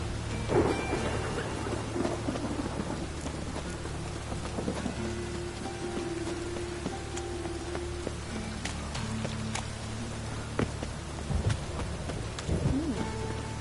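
Rain and thunder in the video game Witcher 3, steady rainfall with low rolling thunder rumbling underneath throughout, plus faint scattered thuds and sharp clicks, no talking.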